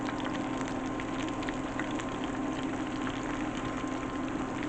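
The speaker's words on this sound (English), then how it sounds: "oyster mushrooms frying here." Continuous crackling and sizzling of oyster mushrooms frying in hot oil, an even, close hiss with scattered pops.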